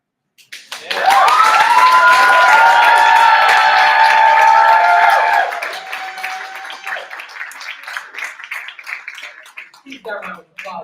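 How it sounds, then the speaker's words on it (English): A poetry slam audience at Berkeley erupts in loud cheering and whoops with applause, holding strong for several seconds before tapering into scattered clapping and murmurs. "Keep that round of applause going."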